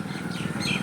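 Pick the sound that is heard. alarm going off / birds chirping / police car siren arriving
birds chirping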